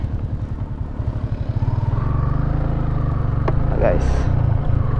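A motorcycle with its stock exhaust rides along a road near Pantabangan, a steady, moderately quiet engine putter with rhythmic pulsing and wind rush, rising slightly as it accelerates.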